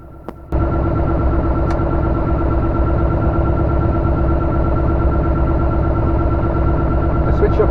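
Light aircraft PH-MNX engine running just before shutdown, a loud, steady droning hum that starts abruptly after a brief quieter moment and holds evenly throughout.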